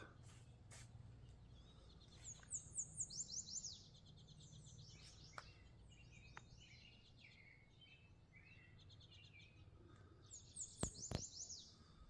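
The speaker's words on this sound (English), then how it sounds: "The birds are singing." Songbirds sing on a farm in Alaska on a summer morning, short high chirping phrases repeated a few times over a low steady background rumble, faint and somewhat distant, with no speech.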